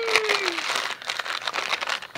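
Sheets of dyed tracing paper handled up close, giving bursts of crisp crinkling and rustling that come and go over a couple of seconds.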